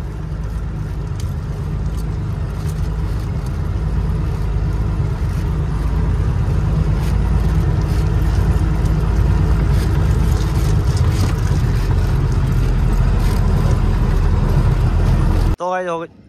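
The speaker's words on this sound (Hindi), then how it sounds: "और अभी हम आगे से गाड़ी घुमाएंगे" A loaded vehicle's engine runs steadily and loud beside a tomato field, a continuous low rumble throughout that cuts out near the end.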